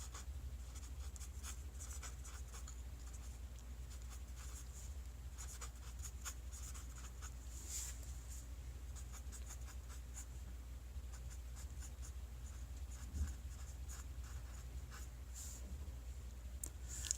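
A pen scratches out an equation by hand in a quiet room, with soft irregular strokes and taps close by and a faint low background rumble.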